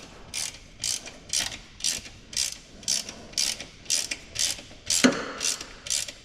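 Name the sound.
hand ratchet on driveshaft bolts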